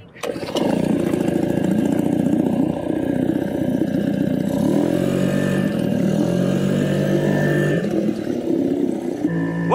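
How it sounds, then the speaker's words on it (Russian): A small two-horsepower Yamaha outboard motor running on a fishing SUP board, a steady droning engine hum that stays loud and even throughout after a quick start. "А САП с возможностью поставить небольшой моторчик. Сейчас стоит Yamaha 2."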